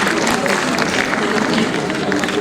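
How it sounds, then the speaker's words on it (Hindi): Loud, steady applause from an audience at an award and honour ceremony, dense clapping filling the room without a break for a couple of seconds. "एक बार तालियों के साथ अभिनंदन"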